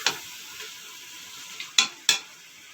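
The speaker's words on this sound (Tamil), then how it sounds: "1/2 கிலோ கறி நாங்கள் அடி பிடிக்காத அளவுக்கு கொஞ்சம் நல்லா எல்லாம் கிளறியே கொடுக்கணும்" A spoon stirs half a kilo of mutton frying in a pot for a quick mutton biryani, giving a soft continuous sizzle punctuated by a few sharp metallic scrapes and taps against the pot, close and clear.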